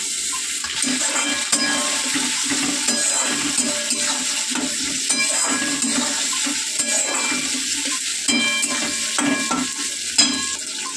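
Chopped tomato goes into a pan of frying onions and sizzles steadily, a continuous hiss with occasional stirring scrapes and clinks, close and fairly loud.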